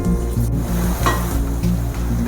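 Sliced onions frying in a pan as the base for prawn pulao, a steady close sizzle with faint stirring clinks and no talk.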